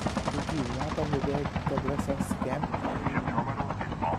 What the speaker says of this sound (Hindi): यहाँ पर आप सुन सकते हो मेरे जो हेलीकॉप्टर है उसको कैसे फोड़ते हैं ये लोग गोली करके से।